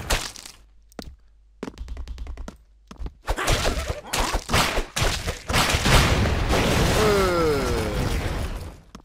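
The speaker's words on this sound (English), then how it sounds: "Big explosion, monster truck." A big explosion in the action video game Expendabros, a loud burst followed by a long rumbling roar, after earlier sharp cracks and thuds of game action.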